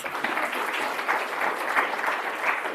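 Steady, dense audience applause in a conference hall at an urban development summit as a speaker takes the stage, sustained and fairly loud throughout with no pauses.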